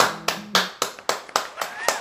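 Brisk hand clapping, about eight sharp claps in a steady run, near and fairly loud, with a faint tone sounding briefly in the background and no clear speech.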